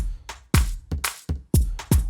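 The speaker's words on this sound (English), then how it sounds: "let's play the first tom, and it sounds like this" Several punchy tom drum hits in an Afro Tech track land in a loose rhythm, each with a deep thump and a short decay, close and clear.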